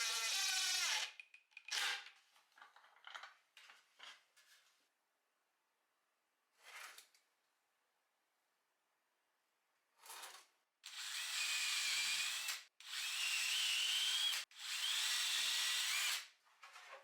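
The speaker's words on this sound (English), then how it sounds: "The countersink bit with depth stop and the corner clamps were really helpful here." A power drill drives a countersink bit with a depth stop into wood for cabinet assembly. It starts with several short, close whirring bursts, pauses, then runs three long, loud, steady drilling runs back to back.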